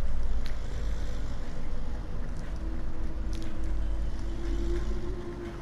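A farm machine with a rotary spader works a field in Farming Simulator 19, giving a quiet, steady low engine drone with a faint tonal whine rising toward the end.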